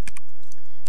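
Arrow keys tapped on a computer keyboard while playing AdventureQuest Worlds, with two quick close clicks, a pause, then one more sharp press.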